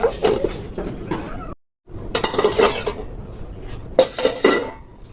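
Metal pot and lid clatter close by as lentils are covered, in several bursts of clanks and scrapes separated by a brief silent gap, with no talking.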